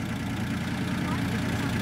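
A 1996 Daewoo Tico with an automatic gearbox idles close by, its small engine giving a steady, even low hum for the whole moment at a car market.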